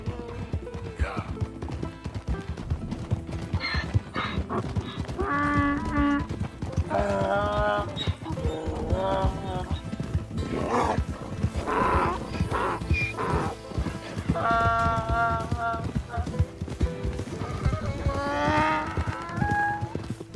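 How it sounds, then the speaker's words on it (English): Donkey hooves clip-clopping in the video game Red Dead Redemption 2, a steady walking patter heard throughout beneath game voices and other animal sounds. "It's just a donkey, idiot."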